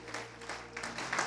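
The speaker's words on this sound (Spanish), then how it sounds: "Dele un aplauso al Rey, aleluya." Brief applause from a church congregation rising in praise during a sermon, scattered hand claps building into a quick patter over a steady low hum of instruments or sound system, with no clear voice on top.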